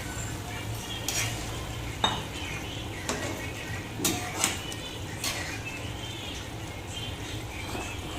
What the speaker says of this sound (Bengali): ফুটতে শুরু করেছে, এবার আমি এর মধ্যে ভাজা মাছগুলোকে দিয়ে দেবো।